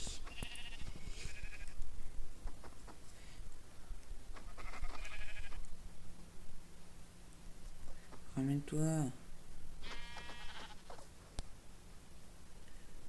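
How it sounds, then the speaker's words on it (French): A sheep in the Minecraft video game gives a short, wavering bleat partway through, faint beneath a young man's speech and scattered game noise. "on va aller prendre le mouton qui est là-bas"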